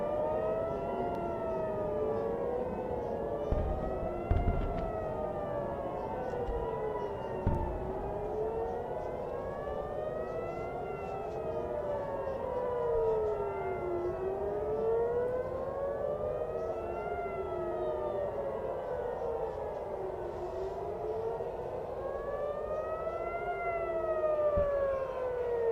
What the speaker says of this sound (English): Sirens are still going.